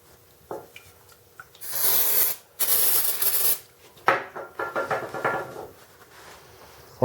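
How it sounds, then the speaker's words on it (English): Brake cleaner hisses from an aerosol can onto a transfer case surface during an NP242 transfer case repair, with two long close bursts of spray followed by shorter rubbing and wiping sounds. "Then we're gonna wipe down the surface with some brake clean."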